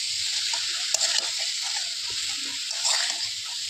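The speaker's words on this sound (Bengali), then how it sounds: "এবার আমরা মোচার সাথে মশলাগুলোকে ভালো করে কষিয়ে নেব।" Boiled banana flower stir-fried with spices in a kadai, giving a continuous bright sizzle with occasional scraping stirs and a couple of sharp clinks of the spatula against the pan, close and steady.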